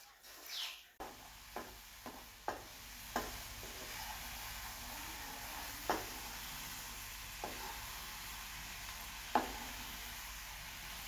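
Jaggery dissolving in a little water in a pan as it heats for a sweet kozhukattai filling, giving a soft, steady hiss broken by scattered light pops and clicks, with no one talking.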